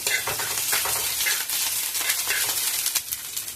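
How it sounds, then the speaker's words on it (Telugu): Onion with ginger-garlic paste frying in hot oil for a vegetable curry gives a loud, steady sizzle with stirring scrapes throughout, close up and without speech. "కొద్దిగా అల్లం వెల్లుల్లి పేస్ట్ వేసుకొని ఫ్రై చేసుకోవాలి"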